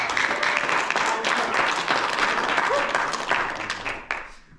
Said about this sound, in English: Let's get a round of applause for some comping.